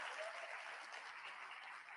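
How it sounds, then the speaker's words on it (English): A conference audience claps steadily for about two seconds, a dense, even round of applause from a crowd in a large hall. "Let's give Marciano and his team a round of applause"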